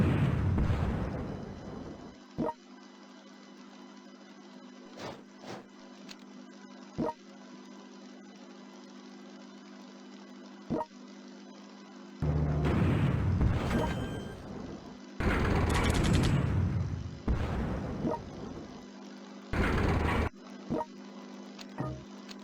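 In the strategy game World Conqueror 3, booming artillery fire and explosions go off in heavy bursts, loud and close, with sharp single shots spaced between them over a steady low hum.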